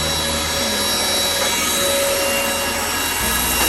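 A Deerma VC01 cordless vacuum cleaner sucks up spilled cat litter, making a loud, close, continuous whirring roar with a gritty, rasping rattle of granules.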